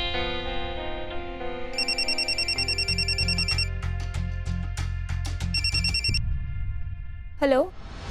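A telephone bell rings in a home amid a family drama, steady repeated electronic ringing with layered tones and a sustained musical backing, fairly loud and close, with a brief rising chirp near the end.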